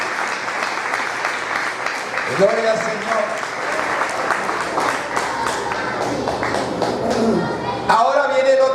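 Applause from a church congregation at a Sunday school sermon, steady clapping sustained throughout under a preacher's voice and singing-like exclamations, fairly close and loud.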